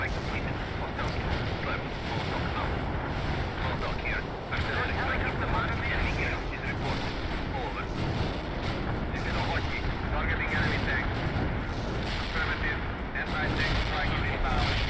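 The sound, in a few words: artillery barrage in World in Conflict video game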